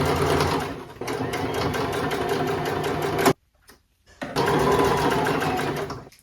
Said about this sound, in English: So now we're going to hem along our necklines, along our armholes, and then along the bottom as well.